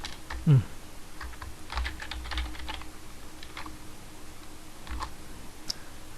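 Keys clatter on a computer keyboard while data is entered into a spreadsheet sales report, scattered quick taps in short bursts, close and fairly quiet against a faint background hum.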